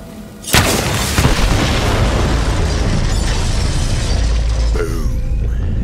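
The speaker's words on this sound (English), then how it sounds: "The explosion echoed through the forest, and those Devil Riders didn't even get a chance to hit the brakes." Set bombs detonate in Borderlands 3 in a forest, with a sudden loud boom followed by a sustained, roaring rumble of blast and debris that continues without pause, a second burst near the end.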